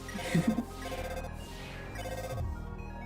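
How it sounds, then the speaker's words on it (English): A glitching phone call rings in Undertale, a stuttering run of bright electronic tones that repeat in loud, looping bursts with a lower buzzing undertone, with no talking. "we got that funny phone glitch there"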